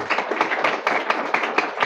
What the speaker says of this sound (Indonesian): tepuk tanganlah untuk kita semua